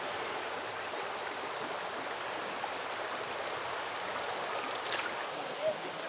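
A clear river flows through forest at Ise Jingu in Japan, giving a soft, steady rushing hiss of running water that is even and unbroken from start to finish, with a faint brief chirp near the end.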